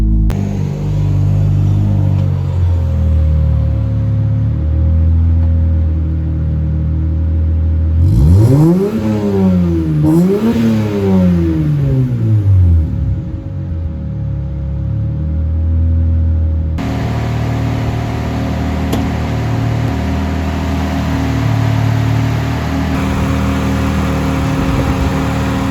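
Turbocharged M104 engine in a Mercedes C180 on a test drive, a rumbling idle that breaks into two sharp revving surges rising and falling in pitch, then settles back to a steady, loud engine drone.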